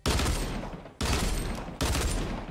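Pistols firing in Fortnite, three loud rapid bursts of shots about a second apart, each fading out before the next begins.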